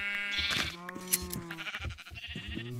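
Sheep bleat in the Minecraft video game, a few wavering nasal cries close and clear, with game sounds and faint background noise between them.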